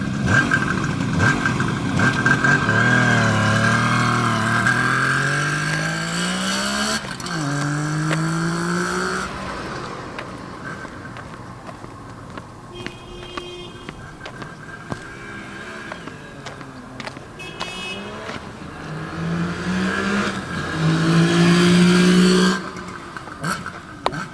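A 1973 Kawasaki S1 250 A Mach I two-stroke motorcycle engine revs up and down repeatedly, rising and falling in pitch, heard up close and loud on board, then settling toward a rougher idle.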